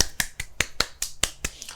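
Clap sound effect, sharp dry snap-like hits in quick succession, about eight crisp bursts at an uneven fast rhythm, close and isolated.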